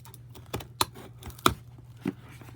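Bulky scissors snip and slice through a package during an unboxing, a few sharp crisp clicks and cuts, close and fairly quiet, spaced irregularly with light rustling between them.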